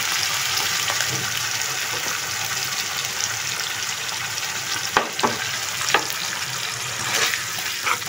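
Grated coconut and spices frying in plenty of oil alongside taro greens, giving a dense, continuous sizzle close by, with a few spatula scrapes and clinks toward the end.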